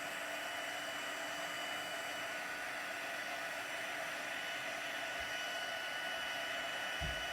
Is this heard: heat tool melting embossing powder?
yes